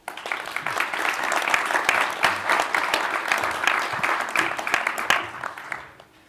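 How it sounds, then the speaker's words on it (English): Audience applause at a leadership forum, a steady wash of many hands clapping that holds for about six seconds before fading out at the end. "let's give both of them a round of applause"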